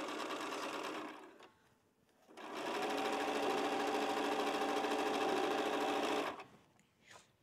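A sewing machine runs on quilt blocks in short stitching bursts, a brief run and then a steady four-second whir, close and alone, with a pause between.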